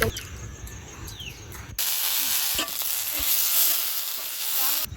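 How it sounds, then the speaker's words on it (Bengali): Chilies frying in hot oil alongside onion and garlic: after a quiet moment, a loud, continuous sizzle and hiss swells up close, broken by a few faint stirring taps. "পেঁয়াজ রসুনটা ভাজা হয়ে গেছে এবার ঝালটা ভেজে নেবো"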